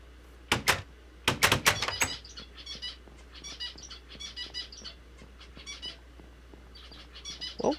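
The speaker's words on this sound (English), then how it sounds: "Oh, we can still hear the birds." Birds chirp outside in short, faint bursts of high twittering, scattered over several seconds after a few sharp knocks at the start, with quiet background hum.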